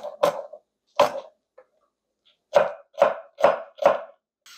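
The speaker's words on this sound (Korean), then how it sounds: "4cm 간격으로 청양고추 2개도 썰어줍니다" A knife slices two cheongyang chili peppers into 3 to 4 cm pieces on a cutting board. Two spaced cuts come first, then four quick, close, crisp strikes in steady rhythm.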